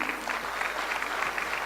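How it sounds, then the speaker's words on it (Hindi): An audience claps at a motivational network-marketing talk, a brief, steady patter of many hands at moderate distance. "आपकी तालियां खुद ब खुद बज रही हैं"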